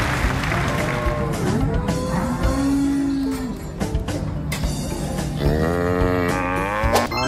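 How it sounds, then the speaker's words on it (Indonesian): A toy cow gives a long electronic moo amid busy, loud toy music and jingling tones, the lowing note standing out clearly for about a second in the middle. "Wih, ternyata juga ada seekor sapi."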